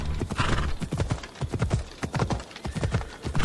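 Hooves clip-clop in a quick, steady rhythm while a horse whinnies briefly near the start, all close and clear, in the video game Assassin's Creed Odyssey.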